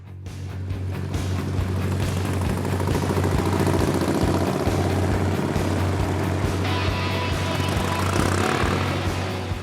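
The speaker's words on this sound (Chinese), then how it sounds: "震天价响的哈雷摩托车声，" Harley-Davidson motorcycles ridden by a touring group on a winding mountain road, their engines droning loudly and continuously with a low, pulsing throb that swells toward the end, no speech over it.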